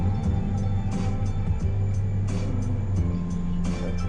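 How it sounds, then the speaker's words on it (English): A car drifting on the OSW track, its engine droning loud and steady with pulsing revs and brief tire-screech bursts throughout. "So here I'm drifting at OSW, lining up till it's ending up on the line."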